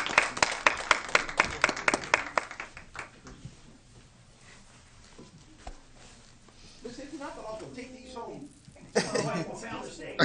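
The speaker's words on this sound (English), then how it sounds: "I would like all of my school board members to stand and give her a round of applause." School board members at a January board meeting give a round of applause, a burst of close, sharp hand claps that thins out after a few seconds, followed by quieter murmuring and talk.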